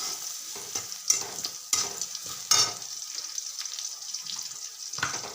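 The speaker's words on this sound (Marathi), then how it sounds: "आपण आता लसूण कुटिलेले टाकू" Crushed garlic fries in oil in a kadai, giving a soft, continuous sizzle with several sharper scraping bursts from stirring spaced through the sound.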